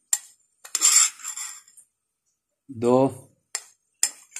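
A metal spoon clinks against a pot as homemade biryani masala is added during biryani cooking, several short sharp taps around someone speaking.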